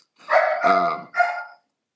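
A small dog yaps three quick times up close, sharp and loud against an otherwise silent background.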